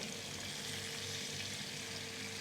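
Hot oil carrying chicken fat and herbs is poured over chicken, giving a steady, close hiss and sizzle that runs evenly throughout without pause.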